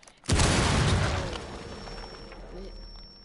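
A breaching charge detonating in the video game Rainbow Six Siege: a single sharp, loud blast that booms and then decays over a few seconds into rumbling debris, with a faint high tone lingering afterward.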